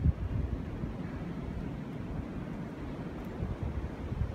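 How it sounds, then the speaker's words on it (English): Wind blustering on a cold mountainside along the Appalachian Trail, a steady low rumbling roar buffeting the microphone throughout, with no voices. "Still windy."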